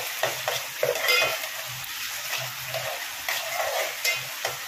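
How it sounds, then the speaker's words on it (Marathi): Chopped tomato and onion sizzling lightly in a pan, with repeated spatula stirs and scrapes giving an uneven rhythm over a steady frying hiss, close and clear without any talking. "आता टमाटर कांदा मस्त फ्राय करायचा, हलका हलका"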